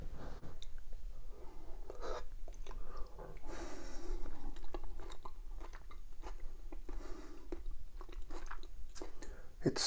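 Someone chews a mouthful of braised kimchi pork ribs with potato close to the mic, with steady wet mastication, soft crunching bites and breathing running throughout.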